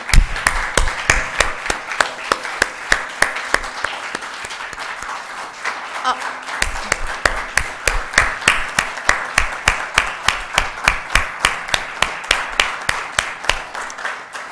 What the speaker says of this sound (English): I want you to join me in applauding them